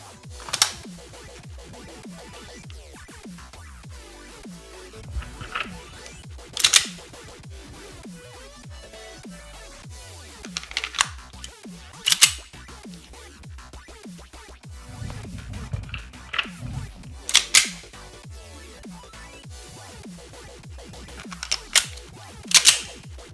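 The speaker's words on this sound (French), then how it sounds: "je vais recharger une à une mes répliques de poing" Airsoft CO2 pistol replicas are reloaded one after another, with sharp metallic clacks and snaps from slides and magazines scattered among softer handling clicks and rattles, close up over a faint background hiss.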